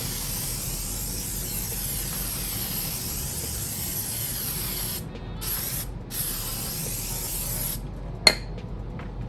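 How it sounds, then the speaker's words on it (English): A continuous aerosol spray of tire shine hisses onto a dirty car tire, broken by a couple of short pauses, then a sharp click near the end. "Let's see what happens with this dirty tire if I just spray 265."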